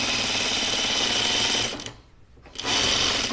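A sewing machine runs close and steady along a shirtdress seam, its fast rattling stitch broken by a short pause before it resumes at full speed.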